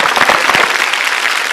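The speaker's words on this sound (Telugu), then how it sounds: "ఒకసారి బాయ్స్ అండ్ గర్ల్స్ గట్టిగా క్లాప్స్ కొట్టాలి" A studio audience of boys and girls bursts into loud, close applause, many hands clapping in a thick, sustained roar with a few sharper claps standing out at the start.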